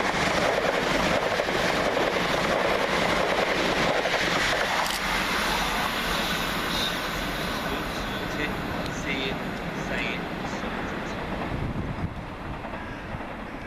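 A Southern class 377 electric multiple unit train passes through Anerley railway station, a loud rumbling roar with rail clatter that swells and then slowly fades away.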